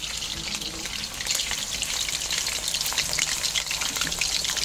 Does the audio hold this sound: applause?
no